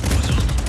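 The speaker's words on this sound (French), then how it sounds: "mitrailleuse et canon." In the Just Cause 4 video game, machine gun and cannon fire blast loudly and without pause, a dense, booming barrage of rapid shots overlapping with heavy cannon thuds.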